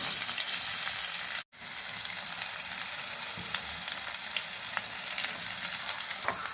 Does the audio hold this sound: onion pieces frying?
yes